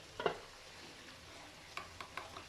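A spoon stirs salt, red chilli and qorma masala into yogurt for chicken qorma, giving a few soft, close scraping clicks and wet taps in short bursts against a quiet room.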